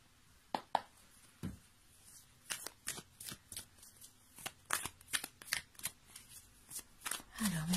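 Oracle cards shuffled by hand in a series of crisp, rapid riffling and sliding bursts, close and fairly loud, with a voice briefly heard at the end.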